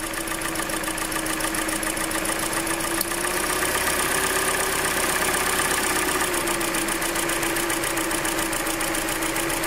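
Hyundai Elantra engine idling with a knocking, ticking fault, giving a steady close rumble with a fast regular tick running throughout and a slight shift in idle partway.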